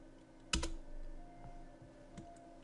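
A computer keyboard used to type into a spreadsheet cell, heard as one sharp keystroke followed by a few faint scattered clicks over a low steady hum.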